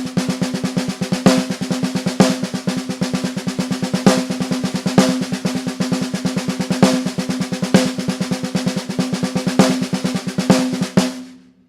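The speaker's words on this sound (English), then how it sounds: "playing that original pattern on a single drum, it'll sound like this" A single drum played with a paradiddle hand pattern in a fast, steady stream of strokes with regular accented hits, close and even, with no other sounds.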